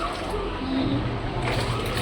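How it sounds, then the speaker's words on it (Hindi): A washing machine fills with water, giving a steady, even rush of running liquid that stays at a constant level throughout with no voices. "मेरी मशीन भी भर गई है, मैं चली कपड़े डालने उसके अंदर, क्योंकि मैं पहले पानी भरती हूँ फिर कपड़े डालती हूँ"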